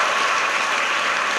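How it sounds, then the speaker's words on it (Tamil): An audience at a school ceremony honouring the principal with an honorary doctorate claps in a dense, steady burst of applause that fills the whole moment at a consistent level. "ஜோரா கைத்தட்டி அவனுக்கு வாழ்த்து தெரிவித்துக் கொள்கிறேன்."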